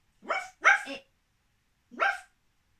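Three sharp barks from a dog, two in quick succession then a single one after a pause, fairly close with silence between.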